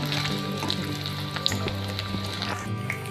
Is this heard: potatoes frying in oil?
yes